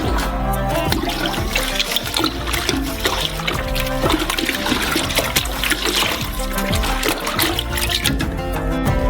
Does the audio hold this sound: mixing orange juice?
yes